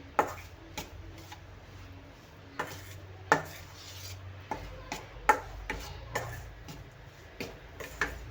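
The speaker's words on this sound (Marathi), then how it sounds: "आता हे पीठ आपल्याला छान तुपामध्ये भाजून घ्यायचं आहे" Flour roasting in ghee in a pan over a low flame is stirred, and a spatula taps and scrapes the pan in sharp, close clicks at an uneven pace over a quiet sizzle, with no talking.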